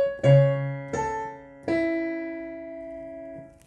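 Chorus on piano, in an easy arrangement: three clear struck chords about a second apart, each ringing on as a sustained held tone, close and solo with no voices.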